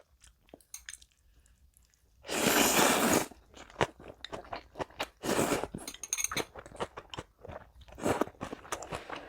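Someone eating seafood jjamppong noodle soup up close: soft chewing and crunching, slurps in loud bursts, and occasional clinks of utensils against a bowl.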